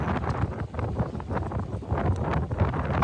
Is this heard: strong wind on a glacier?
yes